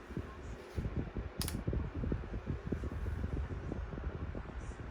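Small 8.5 inch Woozle electric fan running close by, a steady airy whir with low rumbling buffets and a brief bright burst near the start.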